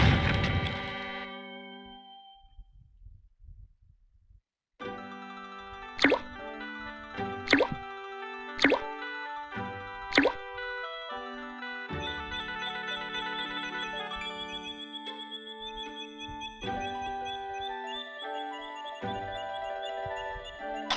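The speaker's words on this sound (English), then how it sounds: "you'll have an improved soundtrack for your games" A synthesized MIDI soundtrack from the game Day of the Tentacle, with plucky, bell-like electronic notes and sharp percussive hits, after a few seconds of another tune fading out and near silence.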